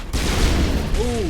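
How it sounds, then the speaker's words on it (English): A pistol shot in the sci-fi game Mass Effect, heard as one loud, sharp burst followed by a short tonal whine as it fades. "Let's see how this new pistol works"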